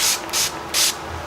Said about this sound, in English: to set my face, I'm gonna go in with the Urban Decay De-Slick spray